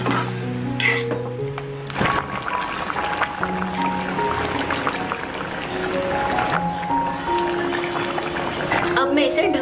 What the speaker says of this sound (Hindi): अभी मैं इसमें 1 कप गर्म पानी ऐड कर देती हूँ